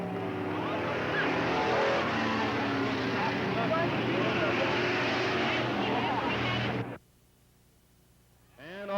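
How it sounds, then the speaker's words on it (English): Stock cars roar around the oval at Riverside Speedway in Cottage Grove in 1991, a loud, dense engine rush that cuts off abruptly near the end, followed by a quiet moment and a faint rising sound. "Well, Robert slows down between 3 and 4 and lets Bruce"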